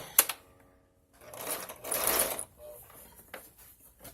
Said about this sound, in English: I just want to zigzag the end